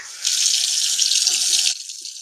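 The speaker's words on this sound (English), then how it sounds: "let me make sure this is on cold water." Cold water runs from a tap into a sink in a steady, close hiss for about a second and a half, then cuts off abruptly.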